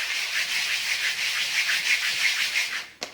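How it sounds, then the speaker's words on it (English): Hand sanding of melted plastic cuts on a stopped belt sander, a steady, close, rasping scrape with a quick rhythmic back-and-forth that ends abruptly. "So now I'm over here at the belt sander, and I'm just sanding"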